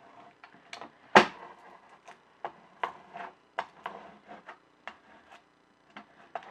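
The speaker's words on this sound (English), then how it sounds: "So I'm just going to start in the middle, and then I'll scrape out to one side and then to the other." A scraper rubbing transfer tape down onto a long wooden porch sign, a series of short dry scrapes in an uneven rhythm, close and fairly quiet, one louder stroke near the start, no talk.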